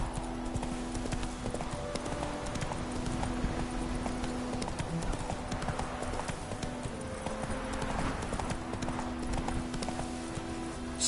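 A horse in The Witcher 3 trots along with a steady, even clip-clop of hooves, close and continuous for several seconds over a low hum of game ambience.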